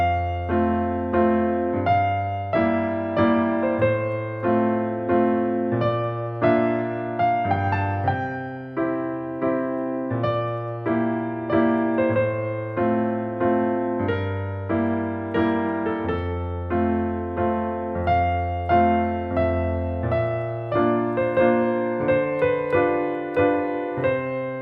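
Solo piano plays a Handel chord progression, steady bass chord pattern under repeated harmonies in an even rhythm, close and clear with no voices.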